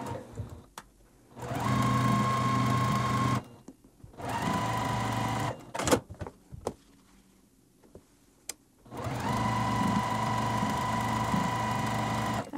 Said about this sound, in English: I'm gonna sew one to either side of our pinwheel unit using 1/4 inch seam allowance